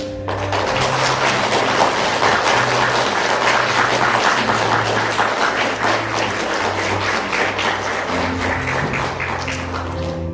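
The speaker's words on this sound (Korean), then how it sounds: "여러분 뜨겁게 박수해 주시면 감사하겠습니다" A church congregation applauds during an elder ordination ceremony, sustained lively clapping from many hands filling the hall, with soft organ-like tones holding underneath.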